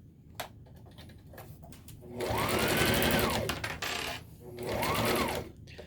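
A sewing machine basting a temporary seam on a tote bag runs in two bursts, a longer steady whir and then a shorter one, close and clear, with faint handling clicks in the pauses.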